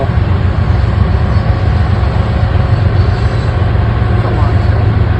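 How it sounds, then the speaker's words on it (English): A long train rolls past nearby, a steady loud rumble of wagons with constant low roar and rattle, unchanging throughout. "It is a long train."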